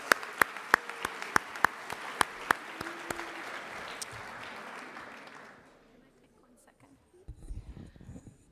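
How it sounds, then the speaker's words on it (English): Audience applause at a school athletics awards ceremony, with sharp nearby claps over a steady crowd wash that fades out after about five seconds, followed by faint murmuring. "big round of applause for Chris"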